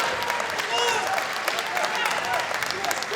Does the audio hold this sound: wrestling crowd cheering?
yes